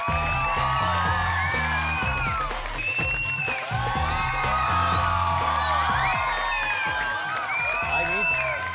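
A studio audience on an Indian TV reality talent show greets a contestant's entrance with sustained loud applause, cheering and whoops, while music plays and a host talks over it.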